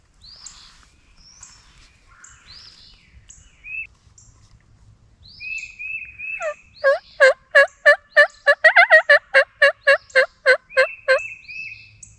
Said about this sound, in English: We set up and start calling, and pretty quickly a gobbler responds